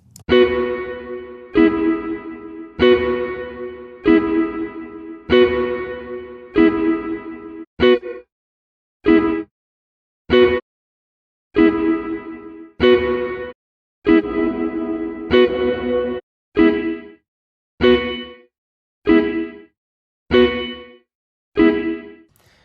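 Guitar-like notes played in bursts through an old spring reverb impulse response, each struck chord ringing with a splashy, metallic tail before cutting off, loud and repeated with short gaps and no talking.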